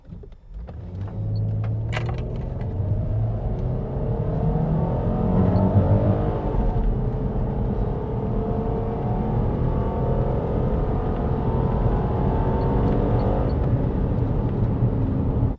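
A 4x4 fitted with a backward-facing stainless steel snorkel accelerates from 0 to 100, its engine rising into a loud, sustained drone that holds for about fifteen seconds with no talking.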